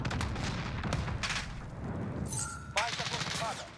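Gunfire from the ISO submachine gun in the video game Call of Duty: Modern Warfare, rapid bursts and scattered shots amid battle noise, fairly faint, with a voice speaking briefly.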